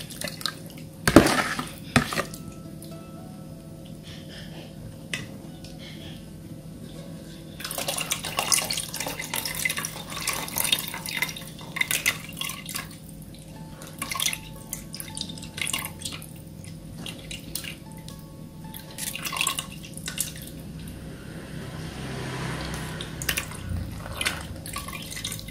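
Blended field crab liquid is strained through a fine sieve into a pot, with trickling, dripping water and occasional clinks of utensils against metal, mostly quiet and close.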